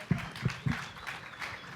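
Student debate audience at USC applauding the debaters, a short burst of scattered clapping with a few sharp claps at the start that fade into a softer patter.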